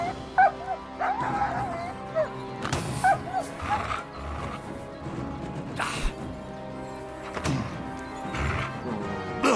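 A dog barks, yips and whimpers while attacking in Kingdom Come: Deliverance II, with sharp thwacks and crashes mixed in over steady game ambience, the barks coming in short bursts near the listener.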